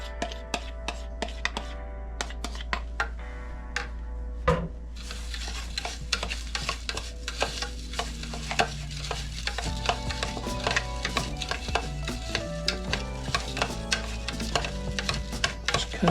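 Panko breadcrumbs being mixed with melted butter in a bowl, a steady run of close scraping and stirring strokes with a few sharp clinks, heard alone.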